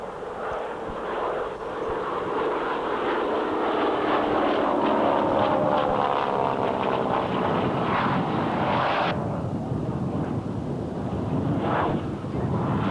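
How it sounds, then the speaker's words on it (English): A North American Harvard propeller aircraft flies at a 1984 air show in Masterton, New Zealand, its loud droning engine roar swelling as it passes and then cutting away sharply, with wind noise underneath. "Very expensive aircraft to operate and maintain, the Harvard, for a private owner"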